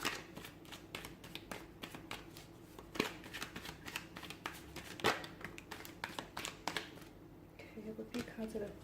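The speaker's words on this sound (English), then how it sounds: "give the cards a shuffle" Tarot cards are shuffled in a run of quick, soft riffling and slapping bursts close up, with a few sharper snaps, heard alone without talk.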